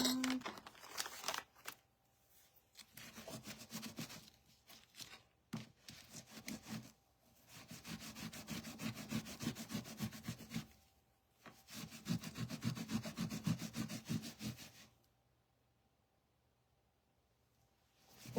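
A sponge is scrubbed clean during a Christmas tag craft session, making rhythmic rubbing and scraping strokes in several bursts with short pauses between them. The sound is close and fairly quiet.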